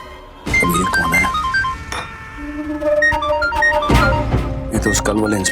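An incoming call's phone ringtone plays a loud, repeating melodic pattern in a TV drama scene, with light speech and clinks mixed in.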